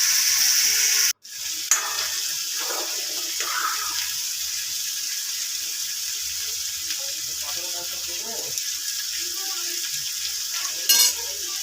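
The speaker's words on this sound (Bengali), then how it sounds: "কড়াতে আমি দুধটা ঢেলে দিয়েছি আর তার সাথে দিয়ে দিয়েছি 4টে এলাচ" Milk poured into a kadai with four cardamom pods, a steady hissing wash of liquid and faint sizzle running throughout, with a brief gap near the start and light clinks of stirring.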